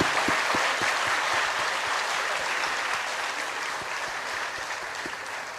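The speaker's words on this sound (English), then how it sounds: "let us all put our hands together for a big round applause to welcome" An audience gives a dense, steady round of applause to welcome Professor Bari, sustained for several seconds and tapering slightly toward the end.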